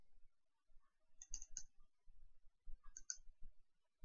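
Two quick bursts of computer mouse clicks, near and crisp, in otherwise quiet room tone during Kodi setup on a computer.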